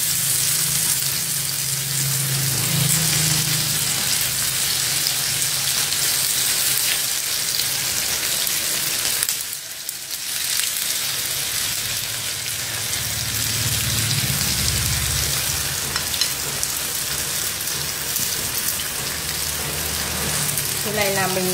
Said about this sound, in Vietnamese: Các bạn rán đậu cho mình nhé.